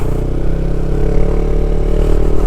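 A motorcycle engine drones steadily while being ridden, loud and close with an even low hum and slight rattling throughout, no voices.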